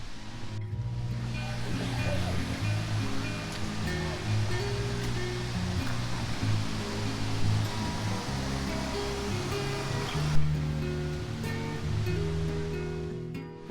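Steady roar of rushing water crashing down at the third tier of a waterfall in Kanchanaburi, Thailand, loud and continuous with no pauses.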